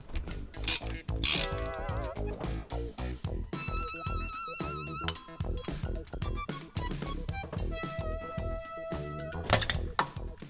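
Cam belt cover coming off an old car engine in a workshop, with tight ratcheting clicks, scraping and plastic knocks at close range, fairly quiet with no talking.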